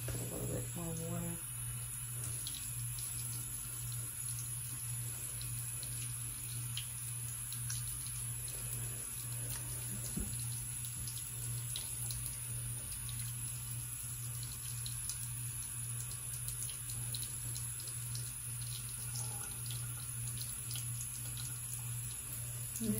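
Tap water runs steadily into a sink during face rinsing, a soft continuous trickle at low level with small splashes and brief handling sounds close by.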